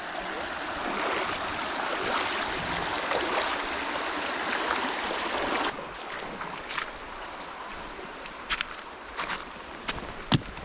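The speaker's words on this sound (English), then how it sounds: "Now it's time to cross the crazy river again." Someone wades across a cold, deep river stream in the Lake District, England; rushing water dominates first, then quieter splashes and sloshing steps follow.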